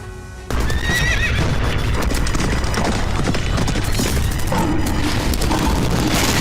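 Cavalry horses moving together, dense clip-clop of hooves with neighing and whinnies over a heavy rumble, loud and continuous after a brief quiet start.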